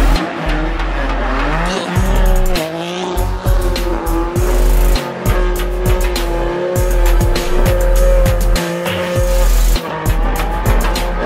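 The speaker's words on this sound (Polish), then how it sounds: "Troszeczkę się ściemnia, więc na dwie furki zrobimy sobie night racing." Two cars, one a BMW M4, racing at night: loud engines roaring and revving continuously while tires squeal in long sustained screeches, with sharp gear-shift breaks throughout.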